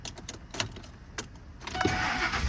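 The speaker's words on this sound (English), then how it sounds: "Starts right up." A 10th-generation Ford F150 truck engine cranks and catches near the end, rising into a steady idle after a few clicks and rattles inside the cab.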